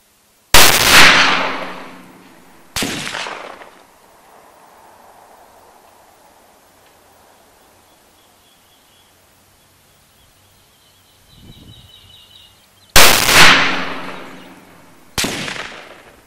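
A Verney-Carron Express EXS double rifle in 8x57 JRS fires four loud, sharp shots outdoors in two pairs, each blast fading into a short echoing tail, with a quiet stretch between the pairs.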